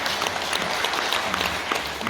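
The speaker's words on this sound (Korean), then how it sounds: "큰 박수 한번" A room full of cooperative members at a training event claps steadily, a dense, even wash of hands with no talk over it.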